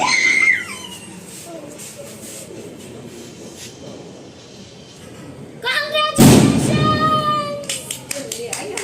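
Firecrackers bursting in Rajkot to celebrate India's win: a sudden loud, sharp bang rings out and decays late in the clip, with people talking and faint background noise before it.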